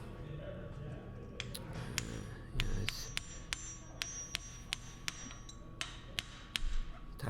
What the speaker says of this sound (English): The little tool there will set the star nut at the correct depth.